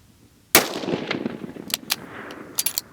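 A sharp Savage rifle shot cracks loudly at an outdoor target range, followed by a long rolling echo, then several fainter shots or impacts ring out in quick succession toward the end.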